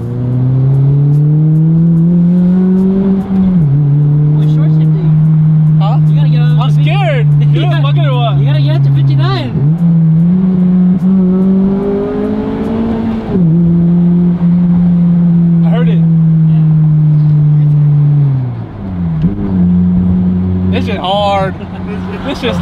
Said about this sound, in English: This car is fucking slow